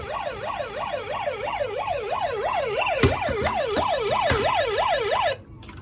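A Hess 2000 toy fire truck sounds its second siren, a rapid electronic wail rising and falling in a steady repeating cycle, loud and close, with a couple of clicks before it cuts off abruptly.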